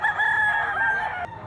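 A yellow-legged bull stag rooster lets out a single close, loud crow that lasts a little over a second.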